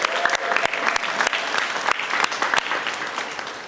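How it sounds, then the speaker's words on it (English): Crowd at a New York rally on paid personal time applauds the First Lady with dense, sustained clapping, sharp individual claps standing out near the mic, steady and loud throughout. "Let's give our First Lady a round of applause."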